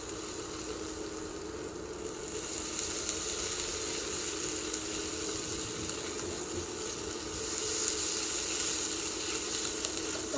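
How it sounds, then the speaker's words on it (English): Onions and garlic sauteing in a pan, a soft steady sizzle that keeps going throughout and grows slightly louder after a couple of seconds, with no one talking. "you want to saute the onions and garlic probably about 5-6 minutes"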